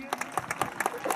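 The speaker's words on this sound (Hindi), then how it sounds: "एक बार जोरदार तालियां इनके लिए।" Sharp, rhythmic clapping from an audience at an army cultural evening, honouring a young cyclist; close, lively and brief, with some voices mixed in.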